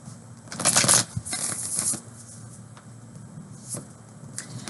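Tarot cards shuffled during a pick-a-card reading: a loud, dense burst of riffling and flicking up close, then softer, scattered card slaps and taps trailing off.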